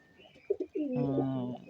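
Pigeon in a home loft gives a few short chirps, then a single rich, throaty coo, close and fairly soft.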